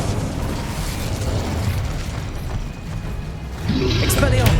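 A fire spell is cast in Hogwarts Legacy: rushing, crackling bursts with mechanical clatter, rising louder and brighter toward the end.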